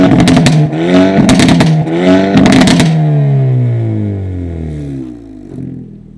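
Hyundai i30 N Sedan (Elantra N) engine revving loud and close, three sharp blips in the first few seconds followed by a long falling rev-down that fades into a low idle.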